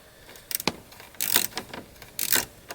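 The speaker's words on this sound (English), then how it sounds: "Quarter inch ratchet and a wobble extension." Quarter-inch ratchet with a wobble extension loosening bolts while working on a 2006 Jeep Wrangler TJ heater core; short bursts of clicking and ratcheting with small metallic clinks, close and fairly quiet, no talking.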